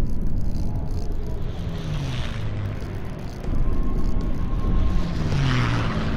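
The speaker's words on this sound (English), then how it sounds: "I hear planes!" Propeller airplanes drone overhead in a war-themed video game, a steady broad engine roar with slowly gliding pitch that swells louder in the second half, continuous and without speech.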